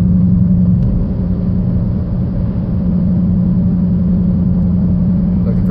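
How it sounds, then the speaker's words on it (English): A 2014 Dodge Challenger R/T with a six-speed manual and straight-piped exhaust drives along, giving a loud, steady low rumble from inside the car that holds an even pace throughout. "I like the old school sound, and this car sounds great."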